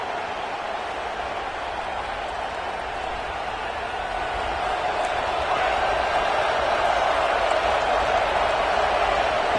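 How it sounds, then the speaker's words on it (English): A loud stadium crowd roars steadily at a college football game against South Carolina, a dense continuous wall of noise that swells slightly louder toward the end. "with this place rocking, the crowd forces a false start"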